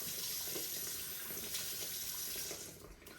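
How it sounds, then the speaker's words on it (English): A running tap pours steadily into a sink as someone rinses their face, a close, continuous splashing rush that eases slightly at the end. "you want to wash your face or rinse your face this way. You want to take the water"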